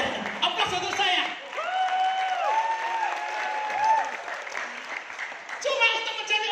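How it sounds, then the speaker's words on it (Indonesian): An audience at a seminar claps and cheers in a lively burst that swells and fades over several seconds, with voices calling out through the applause. "aplaus untuk saya"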